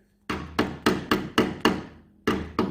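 A small tapping hammer strikes wood on a 4 x 8 rolling shop table build, seven crisp close knocks in an uneven rhythm with a pause before the last two, each ringing out briefly.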